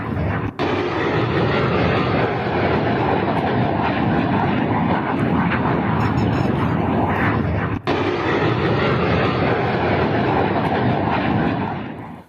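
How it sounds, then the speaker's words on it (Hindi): A Pakistani fighter jet passes over trees, its loud, steady broadband engine roar filling the whole stretch without letup, close and constant with no voices. "पाकिस्तान का लड़ाकू विमान आप देख रहे हैं, ये जो पेड़ के ऊपर आपको जाता नजर आ रहा है, ये पाकिस्तानी फाइटर है।"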